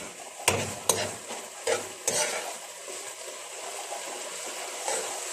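Homemade shawarma meat being stirred in a frying pan, with several sharp scrapes and clinks of the utensil over a steady soft sizzle, close up and without talk.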